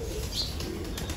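Pigeons flap their wings in a soft, continuous fluttering rustle that stays fairly steady and moderately close, with no talking.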